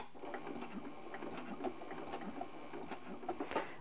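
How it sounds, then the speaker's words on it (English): Sewing machine stitching in place to lock invisible thread while quilting, a fast steady mechanical patter with small periodic clicks, fairly close and alone. "I'm gonna lock my threads here."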